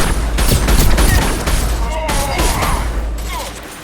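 Heavy suppressive gunfire in the video game Mass Effect 2: rapid bursts of shots and booming impacts over a deep rumble, loud and close, with voices talking over the firefight.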